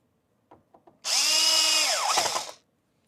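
A power driver whines steadily for about a second and a half, then winds down, as screws go back into a 2014–2017 Mazda 6 Touring instrument cluster; a few small clicks come just before.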